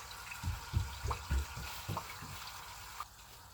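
A PC water-cooling loop refilling and running with trapped air bubbles, a cluster of gurgling, bubbling pops over a hissing pump background, close and moderately loud.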